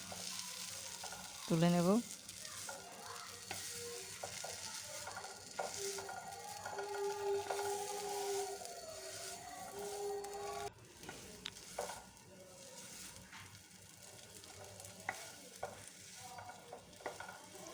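Raw banana peel paste is stirred in a pan over a faint, low sizzle, with soft scraping strokes at irregular intervals and a brief spoken remark near the end.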